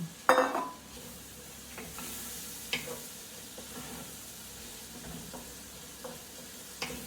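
Garlic, three tablespoons, sizzling softly in a pan of Cajun chicken and gravy while a spoon stirs it, with faint scrapes and a few sharp clinks against the pan, steady and low throughout.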